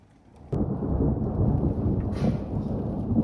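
Rain suddenly begins falling on a home garden in Coventry, UK, starting as a quiet hush and then breaking into a loud, dense, steady wash of drops that carries on without any voices.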